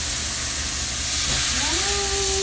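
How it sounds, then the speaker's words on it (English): Wine poured into a hot pan sizzles and steams in a loud, steady hiss that fills the whole moment, with a rising whistle-like tone toward the end, no talking. "We are going to deglaze the pan with some wine."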